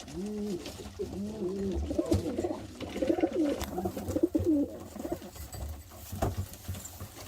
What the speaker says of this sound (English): And old Jingles is getting jealous up here, one of the original cockbirds that we had